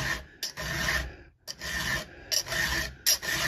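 A hand file sharpens a chainsaw chain in about five rasping strokes, each a close, gritty scrape separated by brief pauses.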